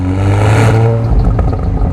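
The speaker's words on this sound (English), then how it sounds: "The rear end of the car is finished off by the optional Akrapovic titanium exhaust system with its 4 pipes." A 2021 Volkswagen Golf R fitted with the optional four-pipe Akrapovic titanium exhaust revs loudly and close by, rising then dropping off into a mechanical clatter and whir.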